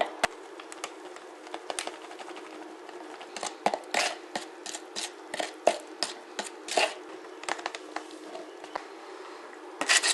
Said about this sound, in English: I'm going to use a decorator's knife